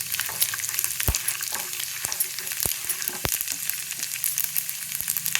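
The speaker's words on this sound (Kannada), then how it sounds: "ಈಗ ಅದೇ ಪ್ಯಾನಲ್ಲಿ ಪಿಸ್ತಾ ಹಾಕಿ ಹುರ್ಕೋತಾ ಇದ್ದೀನಿ." Pistachios and poppy seeds roasting in a dry pan for dried-fruit laddu, a steady crackling sizzle broken by several sharp scraping stirs of a spoon against the pan, with no talking.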